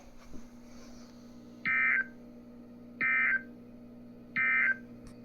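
Three evenly spaced, loud bursts of EAS SAME data tones from a weather radio test over a low steady hum, each burst lasting about a third of a second.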